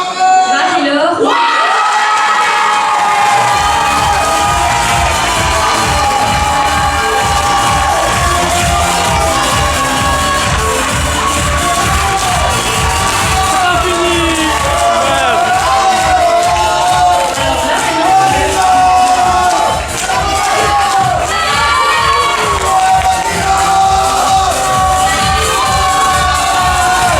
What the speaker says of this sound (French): Vous pouvez encore l'applaudir.